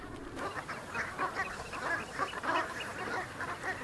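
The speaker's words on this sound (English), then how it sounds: "these huge flocks of Brent geese are really a star attraction" A large flock of over 1,000 Brent geese calls continuously at an estuary in autumn, overlapping honks and cackles at moderate distance, with no talking.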